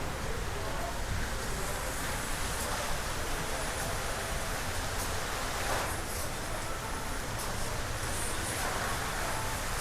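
Fountain show outside a shopping mall in Putrajaya, Malaysia: a steady broad rush of spraying and splashing water, constant over the whole stretch, with faint crowd murmur beneath.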